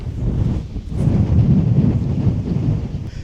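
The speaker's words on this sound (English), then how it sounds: "It's pretty windy." Strong wind buffets an open desert landscape in Europe, a loud, continuous low roar and rumble against the microphone with gusts swelling and easing, no voices.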